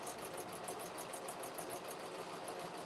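A sewing machine fitted with a gathering foot stitches fabric for a wrap dress, with a quick, even mechanical whir and rapid regular ticking pulses, fairly quiet and with no voices.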